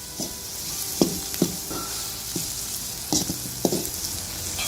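Ginger and garlic fry in a pan for mutton varakari, a soft steady sizzle broken by a few sharp clinks and scrapes of a stirring spoon against the pan.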